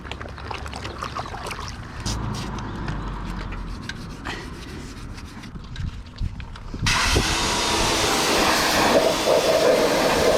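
Brush scrubbing soapy gunk off dirty motorcycle wheels: steady close rasping strokes, then a sudden louder wash of hiss and spray-like noise in the final seconds, no talking.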